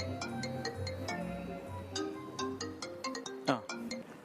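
A phone ringtone sounds while a call is being placed, a repeating tonal melody of clipped notes with talk heard over and around it, fairly quiet and steady throughout.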